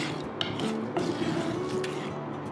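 Whole spices dry-roast in a pan for homemade bit salt, stirred with a utensil that scrapes and rattles them across the metal in a close, continuous rasping shuffle with occasional knocks.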